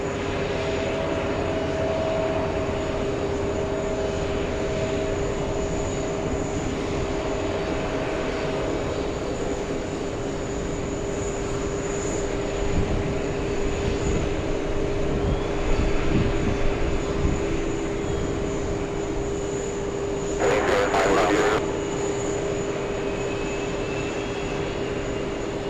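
An Aer Lingus A330 crossing runway 22 right at JFK airport, a steady distant jet engine drone with a constant whine, holding evenly throughout with a brief burst of noise near the end and no voices.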